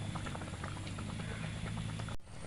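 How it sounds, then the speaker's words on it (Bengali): Poa pitha, palm (taal) fritters, frying in oil over medium heat, a steady close bubbling sizzle with fine crackling patter, cut off abruptly near the end. "দেখুন পোয়া পিঠাটা আমি মিডিয়াম আঁচে ভেজে নিয়েছি"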